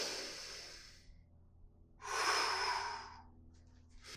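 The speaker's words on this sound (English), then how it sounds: "I will just go ahead and breathe into my lower back." A person doing a relaxed core hanging exercise breathes audibly, with a long exhale at the start and a second deep breath after a short pause, close and quiet with no speech.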